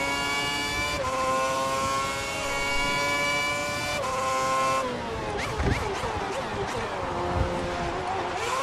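A Formula One race car engine in the F1 2010 racing game screams steadily at high revs, dropping abruptly through gear shifts and then sputtering and braking with tire noise, loud and continuous.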